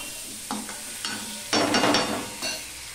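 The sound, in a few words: stirring bitter gourd with salt and turmeric in a pan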